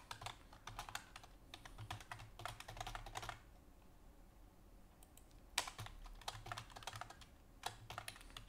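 Someone types on a computer keyboard while coding, in quick bursts of clicking keystrokes with a short quiet gap in the middle, faint and close by, with no talking.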